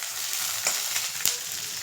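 Thinly sliced cabbage sizzles and fries in a hot pan for egg fried rice, giving a steady, close crackle with two brief louder spatters or stirring scrapes partway through, and no voices.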